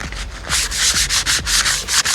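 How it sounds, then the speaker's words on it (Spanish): Sandpaper rubs back and forth across wood in quick, rhythmic strokes, a loud close scratchy hiss repeating several times with no voices. "Voy a lijar un poquitito la madera"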